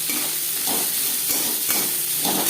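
Chopped onions fry in oil for a mourola fish chorchori, giving a loud, steady sizzle and hiss with faint stirring knocks now and then, and no voices.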